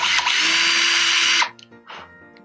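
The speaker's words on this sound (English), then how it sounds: "I'm gonna drill these nails." A nail drill grinds off acrylic nails, a loud steady high-pitched whir running for about a second and a half before cutting off, followed by a few faint brief buzzes.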